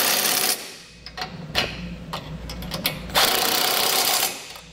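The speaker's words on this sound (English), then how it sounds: "we'll use a 15 millimeter socket and a wrench to tighten down the bracket to the base plate" Socket wrench tightening a bracket bolt to a trailer base plate on a 2021 Chevrolet, close bursts of rapid ratcheting clicks separated by short gaps and a few knocks.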